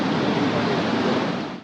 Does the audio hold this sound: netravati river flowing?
yes